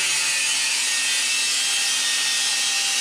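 Metal exhaust pipe for a golden toaster car being cut with a power tool, giving a steady, close, bright grinding-sawing hiss that runs unbroken for the whole stretch with no talking.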